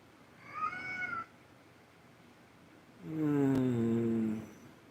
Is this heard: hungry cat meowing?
yes